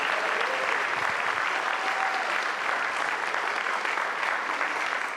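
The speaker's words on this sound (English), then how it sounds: "Another huge round of applause for them." A large audience at a Tacoma city event applauds the Samoa Congressional Christian Church Choir, a dense, even roar of clapping that stays loud and steady throughout, with no talking over it.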